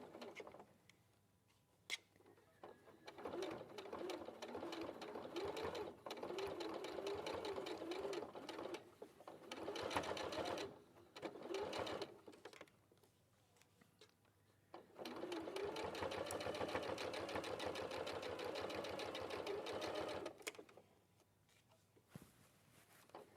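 A sewing machine stitches binding along a quilt edge, running in long steady bursts of fast mechanical chatter with short pauses between runs, close and fairly loud.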